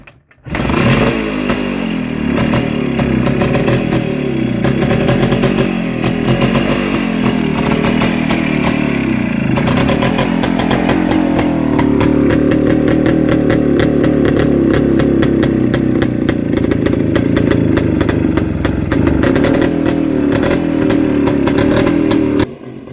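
WSK 125 classic motorcycle engine kicking into life and running, a loud, close two-stroke putter with uneven revving and popping that settles into a steady idle, continuing alone for over twenty seconds.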